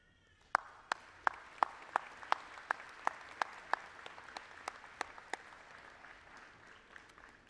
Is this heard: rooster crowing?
no